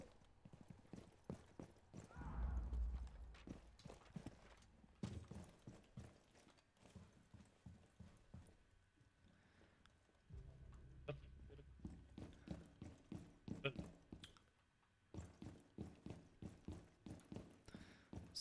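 Rapid footsteps thud and clatter in a Rainbow Six Siege match, running in loud rhythmic bursts with pauses between them and faint game sounds underneath.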